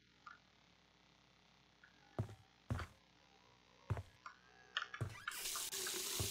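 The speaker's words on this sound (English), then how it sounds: "Flowing water without actually flowing water." A faucet runs in a cabin in Friday the 13th: The Game. A few knocks and clicks come first, then a steady, bright rush of water takes over near the end.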